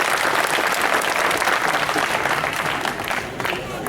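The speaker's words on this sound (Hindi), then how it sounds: "एक बार जोरदार तालियां बजाएं" A political conference crowd at a BJP Scheduled Caste front gathering gives hearty applause, a dense, loud clatter of many hands that runs continuously and eases slightly toward the close.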